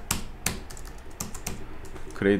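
A computer keyboard clicks under close, quiet focus: a few distinct key taps spaced about half a second apart, like a shortcut being pressed, ending with a brief soft rustle.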